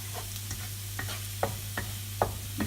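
Garlic frying in a pan while a utensil stirs it, a soft steady sizzle broken by sharp scraping strokes at irregular intervals, close and fairly quiet, with no talking.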